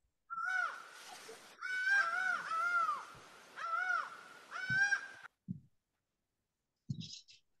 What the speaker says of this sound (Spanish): El canto de pájaro.